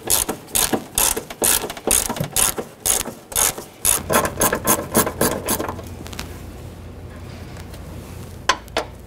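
A hand ratchet clicks in quick, rhythmic bursts while removing 13mm fender bolts on a 1997-2006 Jeep Wrangler, close and loud, then fades into a low steady hum.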